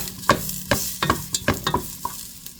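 Garlic and ginger sautéing in a pan before crab is cooked in coconut milk, a quiet sizzle broken by a series of sharp spatula taps and scrapes against the pan, no talking.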